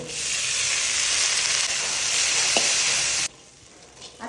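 Drumstick flowers frying in ghee in a pan, a steady loud broadband sizzle that runs unbroken for about three seconds, then suddenly drops to a much quieter hiss.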